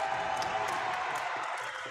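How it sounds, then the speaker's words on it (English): A high school basketball crowd at a district tournament championship roars in a loud, sustained wash of cheering and whoops. "As you hear the crowd roaring"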